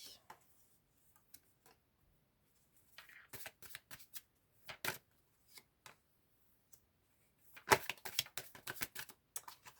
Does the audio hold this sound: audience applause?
no